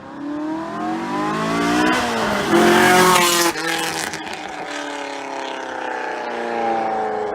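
A C8 Corvette Z06's 5.5-liter flat-plane-crank V8 roars past close by, its pitch rising then dropping and thinning as it moves away.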